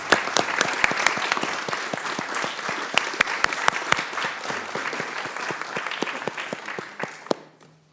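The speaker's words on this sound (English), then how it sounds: "I'd like to have a round of applause for a great guy" Applause from an audience at a US Senate Environment and Public Works committee hearing, a steady dense patter of many hands lasting several seconds before tapering off at the end.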